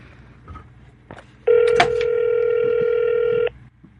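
Outgoing telephone ringback tone, one steady electronic ring lasting about two seconds, fairly loud and clear over a quiet background, with no talk during it.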